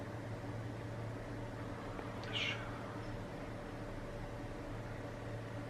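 A domestic cat gives a single short meow midway through, fairly faint and set against a steady low indoor hum.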